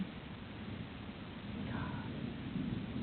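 Thunderstorm with rain falling and thunder rumbling, the roll swelling louder toward the end, a brief faint tonal sound midway, no speech.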